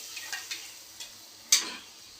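Potato curry is stirred in a pan, producing a handful of quiet, spaced taps and scrapes of a utensil, one stroke sharper than the rest, against a soft background hiss.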